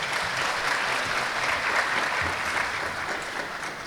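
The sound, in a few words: applause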